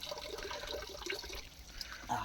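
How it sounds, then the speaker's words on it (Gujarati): Spring water flowing at Dharaniya, Ratanmahal: a soft, close trickle and splash of running water, continuous and quiet, with no talk over it. "આ જે પાણી છે ખરેખર જે પાણી છે એ પાણીની રોનક જુદી છે"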